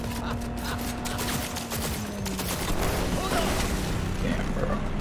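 Gunfire from a weak-feeling gun in a Night City video game, a steady stream of rapid shots over a humming drone, with a voice talking at times.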